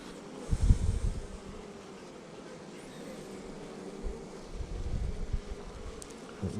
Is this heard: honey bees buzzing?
yes